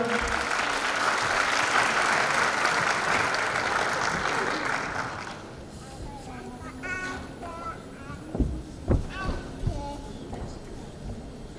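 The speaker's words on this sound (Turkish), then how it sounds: "Güçlü alkışlarınızla sevgili Mustafa Aydın hocamızı Alevili şiirini okuması için sahneye davet ediyorum" An audience at a Turkish poetry event applauds as a poet is invited to the stage; steady clapping fills the first half, then fades under someone speaking with a few handling bumps.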